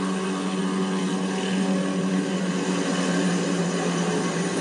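A steady, droning rumble of helicopters approaching in Call of Duty Modern Warfare, a constant hum like aircraft rotors at a distance, with no talking.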